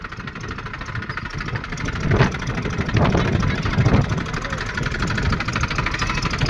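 A tractor engine runs steadily nearby in a cotton field, a loud low idling rumble with a few brief revs.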